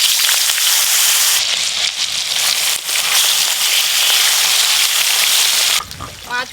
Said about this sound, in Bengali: মাছগুলো এবার ভালো করে ভেজে নেব।